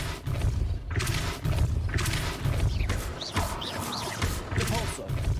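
Repeated Depulso spells cast in Hogwarts Legacy produce forceful blasts and rumbling impacts layered over a continuous loud game soundtrack, with chaotic crashing effects throughout.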